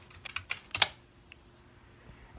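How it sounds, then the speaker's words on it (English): A short burst of clicky keystrokes on a computer keyboard while a password is entered, about six close taps in quick succession, then near silence. "type in our password"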